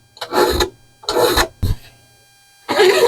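Three loud, harsh rasping strokes of a chainsaw safety file on a metal wing leading edge, each about half a second, with a brief scrape and pause between.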